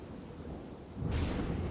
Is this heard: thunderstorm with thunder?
yes